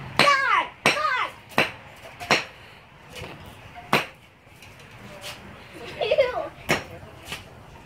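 A hammer smashing a potato, a series of sharp, loud impacts at irregular intervals, several in quick succession, with faint voices and movement between the strikes.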